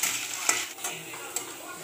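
Sliced capsicum and carrot are stirred in a hot pan for a veg noodle dish, giving a soft continuous sizzle broken by a couple of light utensil scrapes, close and fairly quiet.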